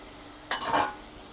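Golden-browned onions for a chicken kuruma sizzle in a pan as a spoon stirs them, giving a short burst of frying hiss with scraping, then fading back to quiet.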